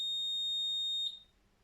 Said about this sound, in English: it's triggering our buzzer and our white LED